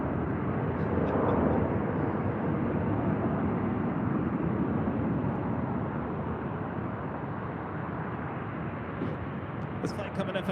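Airliner arriving from Denver at Phoenix airport, a loud continuous broadband engine roar that stays steady for the whole stretch, close and dominant.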